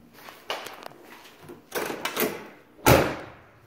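Car doors shut one after another, several sharp thuds with a solid final slam, close by and with no one talking.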